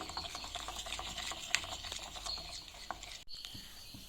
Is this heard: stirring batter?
yes